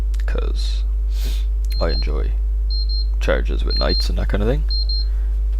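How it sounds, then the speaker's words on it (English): A phone timer alarm beeps in short, faint repeated pairs, ringing off while food finishes cooking, heard underneath someone talking steadily over a low hum. "my phone telling me that the food I was cooking is done"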